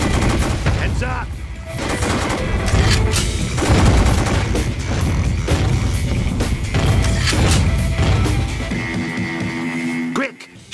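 Dense, loud gunfire from The House of the Dead Overkill Extended Cut on PS3 with Move: rapid volleys of shots, booms and crashes pound almost nonstop, with game voices mixed in, before cutting off abruptly at the end.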